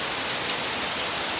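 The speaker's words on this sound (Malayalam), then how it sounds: "മഴയല്ലേ എങ്ങനെ പോകും?" Rain pours down during a rainy day in Kerala, a dense, even hiss of drops striking surfaces, steady and fairly loud with no talking.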